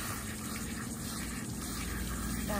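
A garden hose sprays water during an outdoor bath, giving a dense, continuous hiss and gush that holds at steady, close loudness throughout.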